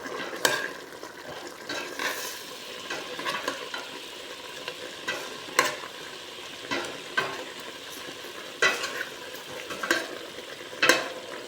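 Chicken adobo with lemongrass and carrots in a pot, stirred with a utensil: a soft simmering sizzle underneath irregular scraping and knocking strokes, close and moderate in volume, with no speech.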